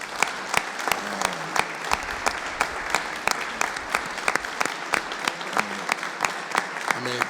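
A committee hearing audience applauds young speakers, a steady round of clapping with sharp, evenly spaced individual claps standing out near the mic, and brief talk surfacing over it.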